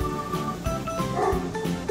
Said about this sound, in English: Did you hear that doggy barking?